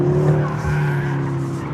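A 2013 BMW M5 and 2013 BMW M6 Coupe brake hard on a race track, tires squealing loudly through a short skid over the steady drone of the engine.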